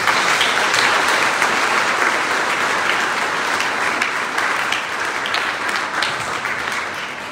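Congregation members at a Sunday Mass applaud warmly, a thick continuous roar of clapping from many people that holds steady and fades only slightly over about seven seconds.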